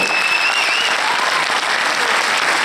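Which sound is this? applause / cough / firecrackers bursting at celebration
applause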